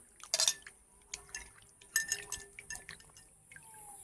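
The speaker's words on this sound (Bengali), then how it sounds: "আঁঠিগুলোকে ফাইনালি ধুয়ে নিয়েছি" Jackfruit seeds are washed in a bowl of water, with splashing, dripping and light clinks of the bowl in short bursts, close and quiet, no talk.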